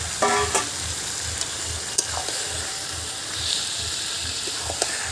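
A spice paste is being fried and stirred in a wok, its close, steady sizzle broken by a rhythmic low scraping from the spatula and a few sharp clicks, with no talk.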